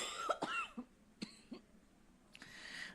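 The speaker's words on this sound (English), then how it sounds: "I have allergies, I always cough." Several coughs and throat clearings from an adult with allergies, close and fairly loud, spaced across a few seconds with quiet gaps between, in an indoor early childhood care setting.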